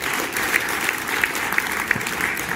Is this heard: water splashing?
no